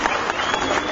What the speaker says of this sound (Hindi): सारे जोड़िए तालियां मारो